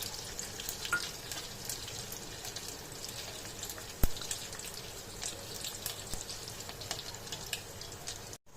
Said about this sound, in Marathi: जिरं तडतडलं की त्यात लसूण टाकून घेऊया